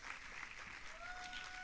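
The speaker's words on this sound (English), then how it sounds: "Please keep clapping as she comes up on" An audience at a leadership forum applauds as the founder and executive director walks on stage, a steady, dense wash of clapping that fills the whole moment without breaks.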